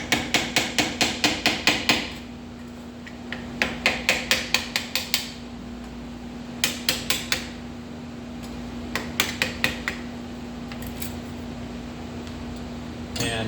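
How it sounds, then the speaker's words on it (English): Hammer lightly tapping a part on a 1967–68 Camaro, Firebird or Chevelle tilt steering column, in quick bright bursts of several strikes separated by pauses, close and crisp over a steady hum. "Put it right here and just give it a light tap once or twice"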